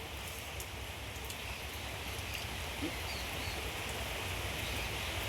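Steady rain falls on pigeons climbing up while getting soaked, making an even, unbroken hiss of drops that stays at the same moderate level throughout.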